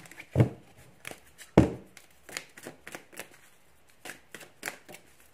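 Tarot cards are shuffled in a series of crisp, uneven riffles and taps, close up, with no talking.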